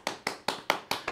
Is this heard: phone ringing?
no